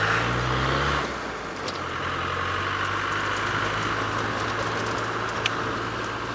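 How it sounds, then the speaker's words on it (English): A tractor engine drones on a safari drive at sunrise, its low steady hum continuing beneath broad noise from the vehicle, fairly constant rather than clearly growing closer. "You might be able to hear a tractor now."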